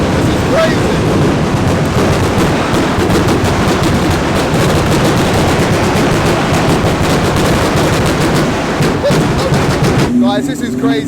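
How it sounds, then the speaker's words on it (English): Fireworks crackle and pop in dense rapid bursts at night in the rain, a continuous rattling barrage heard outdoors with wind and rain noise, a few short voices breaking in near the end. "it's literally fireworks night"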